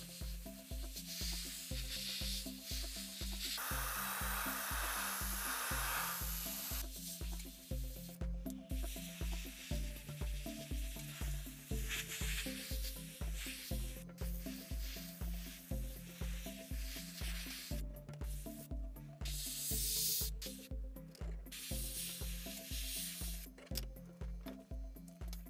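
Airbrush spraying AK Interactive Real Colors model paint thinned with own-brand thinner: a continuous airy hiss over a steady, rapid pulsing thump that runs the whole time, with no talk.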